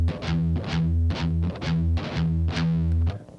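Distorted electric guitar plays steady triplet phrases, chugging on low open E pedal tones between higher fretted notes, loud and continuous with no voice.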